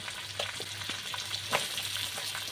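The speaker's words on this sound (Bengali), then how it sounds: "এবার সবজিগুলো আমি এর মধ্যে ভেজে দিচ্ছি ভেজে নেবো সামান্য" Vegetables fry in hot oil in a pan with a steady close sizzle, broken by a few soft stirring scrapes and splashes, with no talking.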